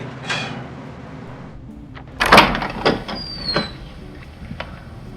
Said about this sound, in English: The door just opens.